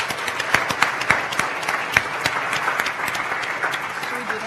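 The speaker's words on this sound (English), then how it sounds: "Please give them another warm round of applause." An audience at a culinary conference applauds faculty and students, a crowd's continuous clapping with distinct individual claps popping out close by and faint voices mixed in.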